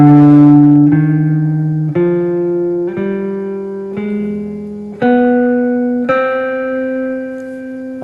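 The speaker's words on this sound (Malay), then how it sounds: "So saya akan tunjukkanlah si harmonic minor ni bunyi dia macam mana" Guitar plays the C harmonic minor scale as single sustained notes, about one per second, climbing step by step with clear ringing attacks and no talking.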